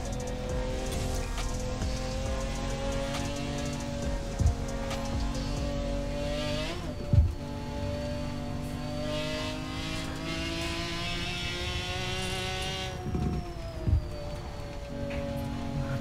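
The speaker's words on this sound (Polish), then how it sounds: "Nie wsłuchujcie się za bardzo w brzmienie tego auta mojego, dlatego że to nie jest oryginalny silnik." McLaren Senna fitted with a swapped, non-original engine in Forza Horizon 4, droning steadily with a rising and falling engine tone and a few brief thumps of gear changes, loud and close with no talk.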